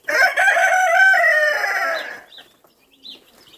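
Chickens clucking and a rooster crowing loudly up close, followed by a few softer clucks and chirps as the calls fade.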